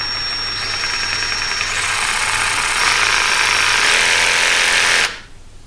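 A Milwaukee M12 cordless jigsaw motor whines loudly and steadily, stepping up in pitch twice as the variable speed rises, then cuts off abruptly near the end.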